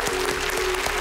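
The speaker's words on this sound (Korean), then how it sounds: "박수 한번 주시죠" Studio audience applause on a Korean TV broadcast, a dense, loud wash of clapping with a steady tone running beneath it throughout.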